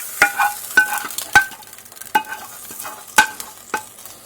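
Yellow lentil soup tadka for an Egyptian dish is stirred in a frying pan: a soft sizzle runs underneath while a utensil scrapes and clinks against the pan in a series of sharp, irregular strokes, close up and without talk.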